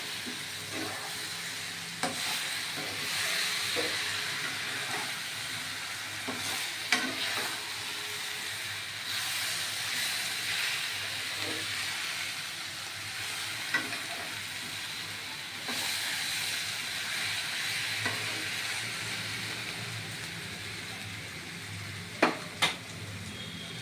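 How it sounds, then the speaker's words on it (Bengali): Jackfruit curry sautéing in ghee in a pan, a soft steady hiss of frying with occasional scraping and stirring clicks of a utensil against the pot, fairly quiet and close, no talk. "ঘি দিয়ে এবার আর একটু কষাবো"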